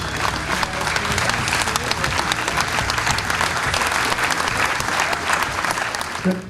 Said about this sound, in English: big round of applause, Alastair Campbell.